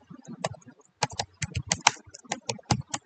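Python code typed on a computer keyboard: close, crisp key clicks in quick irregular runs with brief pauses, alone in a quiet room.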